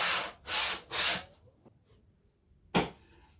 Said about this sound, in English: Whenever you've got to fit something into a groove, give it a little chamfer.